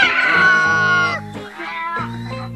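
A cat meows in a storybook tale of farm animals travelling together: a loud, drawn-out, wavering meow followed by two shorter calls, heard alone without any talk.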